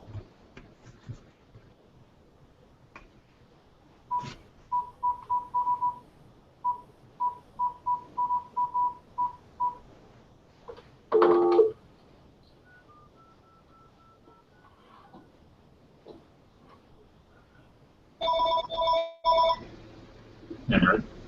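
A series of short telephone keypad dialing tones beeps in quick irregular groups, followed later by a brief ring and a louder burst of tones, with faint talking in a quiet room.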